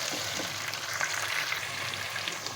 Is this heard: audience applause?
no